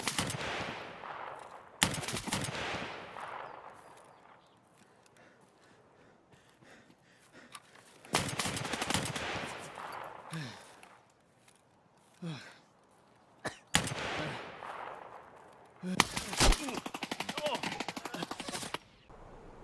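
Gunfire in Escape From Tarkov comes in several separate sharp volleys of automatic shots, loud and close, with quieter gaps between them.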